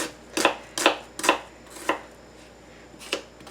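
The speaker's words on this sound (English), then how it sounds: "Now I'll show you how I prepare onion. You don't have to chop it very finely." A knife roughly chopping an onion: four close, sharp cuts in quick succession, then a pause, then two more spaced-out chops over a quiet background.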